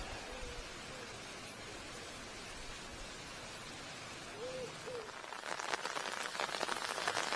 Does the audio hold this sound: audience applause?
no